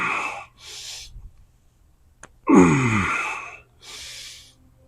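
Heavy, forceful breaths from a lifter performing a loaded barbell squat with heels raised on a plate: several sharp gasping inhales and exhales, close and loud, with a strained grunt-like breath near the middle.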